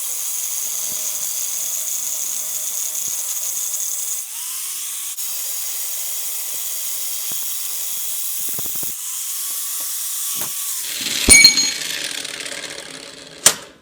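A power tool cuts metal for a Ford Mustang lower control arm in a workshop, its faint hiss and whir spinning up twice before a brief, harsher burst of cutting near the end, with no talk.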